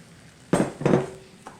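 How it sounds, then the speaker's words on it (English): Cooked, drained pasta and sausage are tipped into a skillet, giving two close, soft thuds with a brief clatter of metal, followed by a faint clink at the end. "our last ingredients are going to be the cooked and drained pasta, our cooked and drained sausage"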